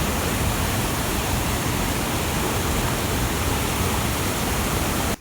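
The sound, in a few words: Pennahobilam waterfall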